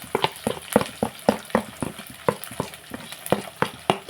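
Garlic, dried red chillies and cumin fry in a pan while a spoon stirs them, giving a steady soft sizzle broken by regular scraping strokes, close and fairly quiet, with no talk.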